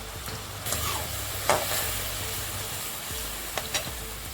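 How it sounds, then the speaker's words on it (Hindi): Onions and capsicum frying on a high flame with soy sauce, a continuous loud sizzle under a low hum, punctuated by a few sharp spatula clacks against the pan, no voices. "अच्छे से हाई फ्लेम पे हम अभी फ्राई कर लेंगे"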